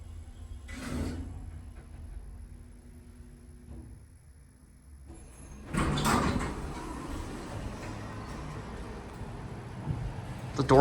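A Dover traditional hydraulic freight elevator door with a clutch slightly out of adjustment slides shut with a mechanical rumble and scraping, followed by a brief thud, close by amid light background noise.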